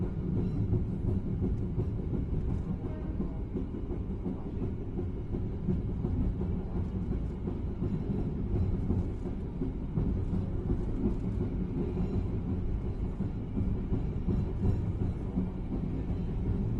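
A passenger train of the Serayu morning service from Purwokerto rolls into Kroya station, a steady, moderately loud rumble of wheels and carriages heard from inside that carries on evenly throughout without a break.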